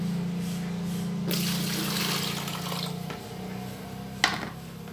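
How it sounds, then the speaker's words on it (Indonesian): Dirty water pours out of a car battery and splashes down in a close, steady trickle with a low hum beneath it, then tapers off, followed by a single sharp knock near the end. "Oke, kita buang dulu airnya."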